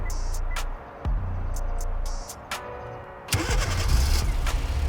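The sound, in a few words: Hyundai Sonata engine starting via remote starter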